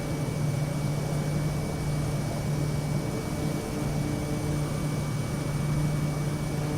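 An airplane flying in Microsoft Flight Simulator gives a steady, unbroken engine drone with a constant low hum, loud and even throughout, with no voices.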